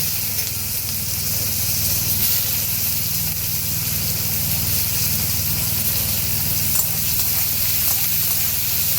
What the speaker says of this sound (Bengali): দেব পেঁয়াজ কুচি।